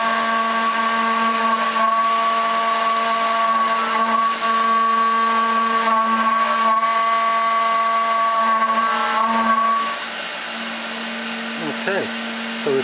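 A CNC3020 router engraving text into brass with a 0.2mm tool, giving a steady high spindle whine with strong tonal harmonics that drops away near the end, leaving a quieter hum.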